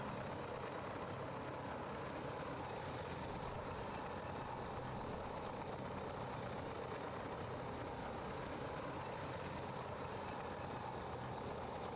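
A helicopter in the video game Graviteam Tactics: Mius Front flies away, heard as a steady, dense engine-and-rotor drone that holds without voices for the whole stretch.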